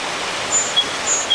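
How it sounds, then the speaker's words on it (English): The Delaware River flowing strongly beside a canal, heard as a steady, even broadband rush of moving water throughout, with a few faint, brief high chirps above it and no speech. "there is the Delaware River is right over here, flowing pretty strong right now"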